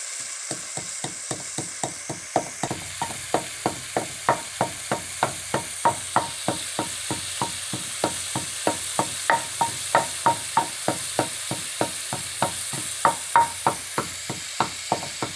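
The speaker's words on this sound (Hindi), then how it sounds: "ये हमारे पास अनारदाना है, ये हम कूट के डालेंगे इसमें।" Dried pomegranate seeds and coriander being pounded with a pestle: a long, steady series of sharp, evenly spaced knocks, roughly three per second, close and clear with no talking.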